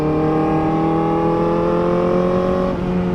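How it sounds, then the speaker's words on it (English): A Kawasaki ZX-4RR sport motorcycle engine revs up close and loud, gears, intake and exhaust audible, its whining pitch climbing steadily for a few seconds with no talking. "you get to hear all the gears, air intake, exhaust, everything of the bike"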